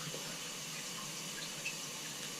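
Steady, forceful hiss of water spraying from a Tushy bidet nozzle in a bathroom, continuous and close with no pauses or talking.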